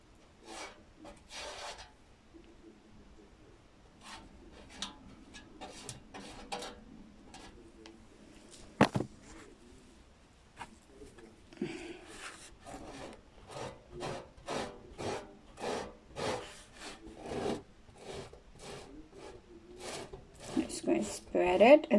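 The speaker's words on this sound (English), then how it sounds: "Just going to spread it, and then we're going to take it off, scrape it off, all the excess off." Paint spread and scraped across a metal tray, a run of short rubbing, rasping strokes in steady rhythm that grow louder and closer toward the end, with brief pauses early on.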